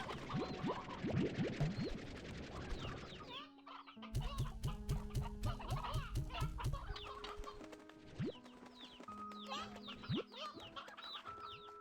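Chickens cluck and fowl chatter in the Slime Rancher 2 video game, many short repeated calls layered close together, with rhythmic game sound effects mixed in and no speech.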